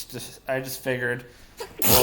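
A single loud, sharp sneeze bursts out near the end, right after a person finishes talking; it is close and abrupt, with speech before it.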